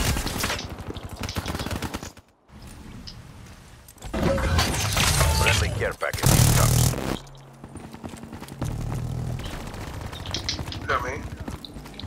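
Gunfire in the shooter game Black Ops 3: bursts of rapid automatic shots in loud dense blocks separated by brief gaps, with a player talking over the action.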